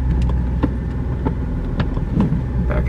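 A 2004 Jeep Liberty rolls along in four-wheel low, its engine a steady close rumble broken by scattered knocks and clunks from the drivetrain, with no voices.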